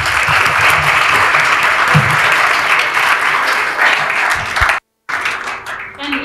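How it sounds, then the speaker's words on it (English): Audience at a University of Arizona training session giving a loud, sustained round of applause for a presenter, with dense close clapping that cuts off abruptly near the end and then briefly resumes. "Let's give a round of applause to Eleanor and to you for answering the questions correctly"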